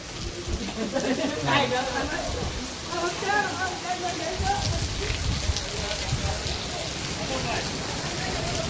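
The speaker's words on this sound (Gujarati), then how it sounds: "થોડો થોડો પવન છે અને વરસાદ પણ સારો છે." First monsoon rain falls steadily with a light wind, a continuous hiss of drops on surfaces throughout, with people talking over it.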